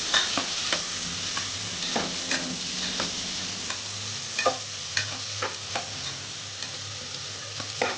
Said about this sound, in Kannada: ಈರುಳ್ಳಿ ಸ್ವಲ್ಪ ಫ್ರೈ ಮಾಡ್ಕೊಂಡು